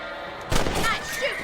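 A single gunshot fired at rabbits in the Red Dead Redemption video game cracks out sharply midway, followed by a brief ringing tail over a soft background.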